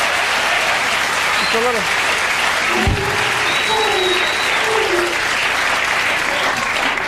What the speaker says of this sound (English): and the crowd goes crazy